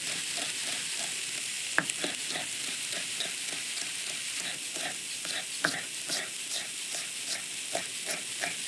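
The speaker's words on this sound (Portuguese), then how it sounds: "Vamos começar a juntar o pimento aqui ao refogado." A Portuguese refogado sizzles steadily in a pan while a utensil stirs it, with soft scraping strokes and a few sharp clicks against the pan over a constant frying hiss; no talk.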